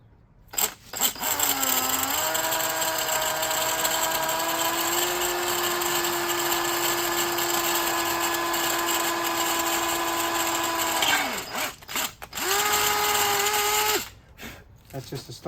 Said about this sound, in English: we're gonna drill down through this hole